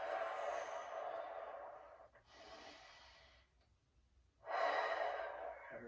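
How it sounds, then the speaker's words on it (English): Slow, deep breaths drawn in through the nose and let out through the mouth during a seated full-body stretching session, three long airy breaths, close and fairly loud, with a brief quiet pause between them. "We're inhaling deeply through our noses and out through our mouths."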